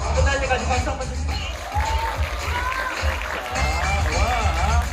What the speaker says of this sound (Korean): 이쪽에 박수 소리가 많이 나와서 선물이에요